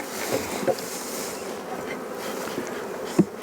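A steady drone of many honeybees buzzing close by at a hive, with occasional louder passes as individual insects fly near.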